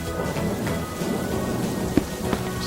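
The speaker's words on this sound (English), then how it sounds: "It's raining, and Peppa spots her rainbow umbrella" Steady rain pours in a cartoon scene, a dense hiss of drops with low rumbling underneath and a couple of soft thuds, no voices over it.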